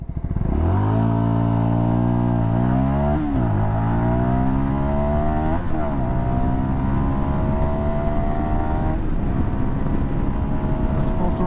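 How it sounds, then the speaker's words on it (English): A 2022 CFMoto 300NK motorcycle at full throttle, its engine climbing through several rising revs with brief dips between gear shifts, then holding a loud steady drone, close up. "That's full throttle. It's a good bike."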